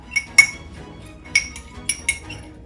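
Salt and smoked paprika are stirred together with a metal utensil against a bowl, giving six or so sharp, bright clinks in an uneven rhythm over quiet background.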